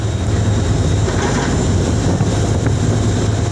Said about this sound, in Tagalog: Ito, pakinggan nyo yung barko, parang bumahog ka sa pader.